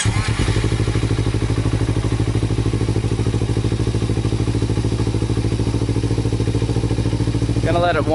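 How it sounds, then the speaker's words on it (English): A Kawasaki sport motorcycle, a ZX6R or Ninja 300, idles steadily after a cold start with a loud, even, rapid engine chug throughout and a brief squeal near the end. "That's a cold start for you."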